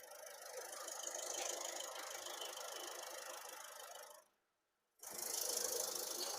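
A Ford EcoSport Titanium Plus diesel engine runs with a faint mechanical clatter and whine, cut off by a brief silence before the same rattling hum returns; no speech.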